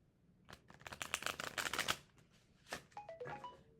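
A deck of cards riffles in quick fluttering bursts, close up, then a brief second shuffle followed by a few soft clicks.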